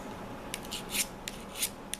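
A tool blade is sharpened by hand, with metal rasped away to clear burrs and put a small bevel on the edge: about six short, quiet scraping strokes at an uneven pace, with no talking.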